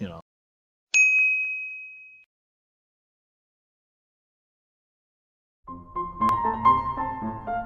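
A single piano note, struck once, rings out clearly and decays away within about a second and a half, followed by silence and then a burst of other piano notes played together.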